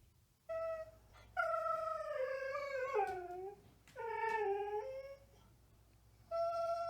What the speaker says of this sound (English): this is my dog making some funny noises because he wants some treats